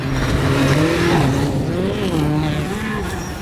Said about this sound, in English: After completing the 6 stages, the cars reach the finish line.